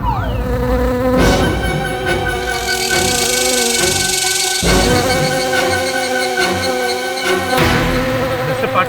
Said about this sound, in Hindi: पाटिल साहब, मक्खी मेरी ओर आ रही है।